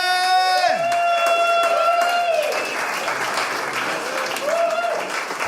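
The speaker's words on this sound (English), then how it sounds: "Now keep your applause going for your next competitor" A comedy club audience applauds and cheers for a stand-up comic at a competition, steady clapping mixed with sustained whoops and tonal shouts that ease off slightly midway, then rise again near the end.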